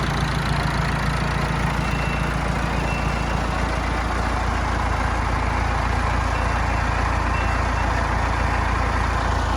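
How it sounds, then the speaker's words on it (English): A Massey Ferguson tractor engine runs steadily and loudly up close, a constant low rumble with a faint repeating tick, used for pulling a log wagon in a horse-logging setting. "We got us a pretty nice Massey Ferguson tractor."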